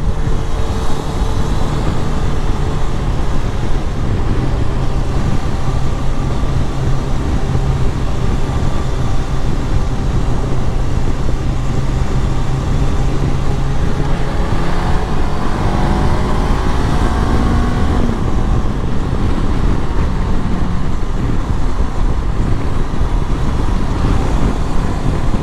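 A 2023 Honda CB 500 X motorcycle climbs uphill on the BR 262 highway in sixth gear, a steady droning engine blended with heavy wind and road roar, an engine tone shifting partway through.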